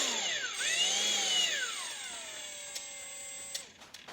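A Milwaukee M18 FUEL mud mixer drill runs with a whining motor that ramps up and down in pitch as the variable speed changes, close and steady with no talk.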